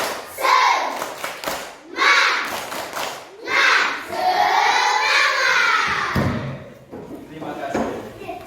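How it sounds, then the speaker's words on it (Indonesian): A classroom of Indonesian schoolchildren does a rhythmic clapping chant in loud group bursts that mix shouting voices with hand claps, then the noise tapers off. "Coba tepuk semangat."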